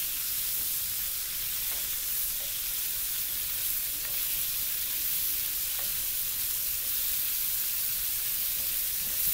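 Hilsa fish fries in a pan of hot oil, a dense, steady close-up sizzle that runs unbroken throughout, with a few faint utensil ticks underneath.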